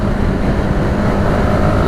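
Steady, loud running drone of a Honda Supra GTR 150 motorcycle engine, close and continuous with no voices over it.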